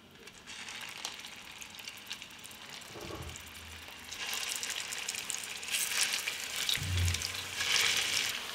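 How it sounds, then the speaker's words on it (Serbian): Meatballs fry in about 50 ml of hot oil in a pan on a stove, with a steady sizzle that swells louder midway and a couple of soft clatters as they are moved, with no talking. "Ulje se zagrejalo i spuštam ćufte i pržimo ih."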